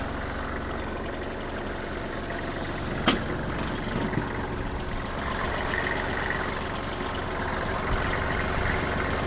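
A Kubota GL-29 mini tractor's diesel engine idles smoothly and steadily, a close continuous low rumble with one brief click partway through, no voices.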